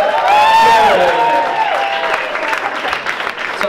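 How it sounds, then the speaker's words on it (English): Audience at a live concert in Cape Town bursts into applause and cheering, loud at first and then thinning out over a few seconds. "Have a little round of applause for Jared."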